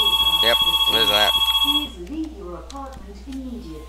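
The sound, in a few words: phone ringing in video game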